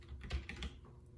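Keystrokes on a Ducky XS-84 mechanical keyboard sound as a quick run of several close, crisp clacks over about a second, quiet and up close with no talking.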